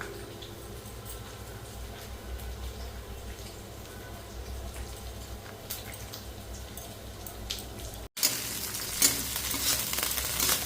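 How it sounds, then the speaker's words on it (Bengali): Ginger-garlic paste and onion sizzle in a pan while being stirred, a steady close frying hiss with soft scraping, growing sharply louder and brighter near the end, with no one talking. "আদা রসুন তার সাথে পেঁয়াজটা একসাথে পেস্ট করে নেবো, মানে ভালো করে মিক্স করে নেবো"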